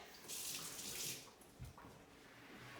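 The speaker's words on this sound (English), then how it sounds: "So all you gotta do is just wash it out" Water runs from a tap as a teaspoon is rinsed under it, a steady splashing hiss that swells briefly near the start and then continues evenly until the end.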